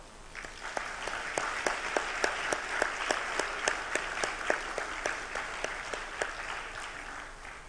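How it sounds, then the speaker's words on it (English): A publishers congress audience gives a sustained round of applause for a colleague, dense crowd clapping with distinct sharp claps close by, steady and even for several seconds. "I would like to invite you that we celebrate Julián with a round of applause"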